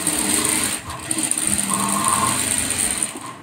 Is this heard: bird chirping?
no